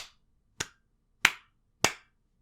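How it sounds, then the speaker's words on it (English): A single person claps four times, slow and evenly spaced, each clap sharp and close, with silence between them. "One man applause."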